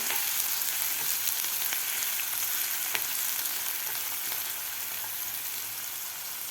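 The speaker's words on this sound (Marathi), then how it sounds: "आता कांदा आपल्याला व्यवस्थित दोन ते तीन मिनिट व्यवस्थित परतून घ्यायचा आहे" Finely chopped onion sautéing in a pan for a village-style drumstick masala curry, giving a steady, even sizzle that holds at a moderate level throughout, with no voices.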